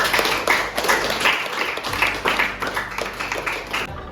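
Classroom applause during a teaching practicum session, a dense, steady wash of many hands clapping together for the full four seconds, fairly loud and continuous with no talking over it.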